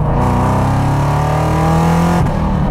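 A Chevrolet Corvette's LT1 V8 revs steadily and loudly up close, a deep, throaty engine tone climbing and holding for about two seconds before dropping off abruptly near the end.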